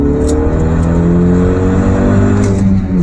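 A Hyundai with a turbocharged 1.6-litre engine making over 200 horsepower accelerates hard, its engine droning loud and close with a steady rising tone and no talking.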